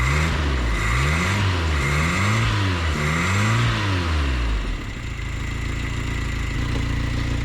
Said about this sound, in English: If it sounds like it's ticking, it's got an exhaust leak, guys.